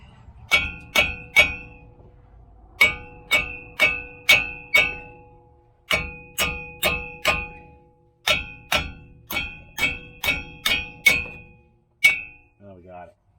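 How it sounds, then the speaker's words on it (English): Loud, ringing metallic clangs as a hammer strikes the back of a Ram 2500/3500 truck hub face to drive out the wheel bearing, in bursts of three to five blows with short pauses between groups. "We'll start hitting from the back of the hub face."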